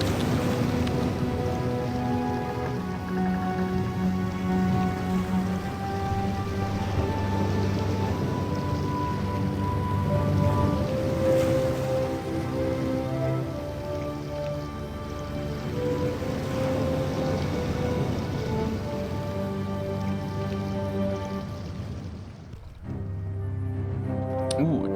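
A storm scene from the video game The Longest Journey brings steady rain with low rumbling thunder and tonal game music. The sound runs loud and continuous, then drops away near the end.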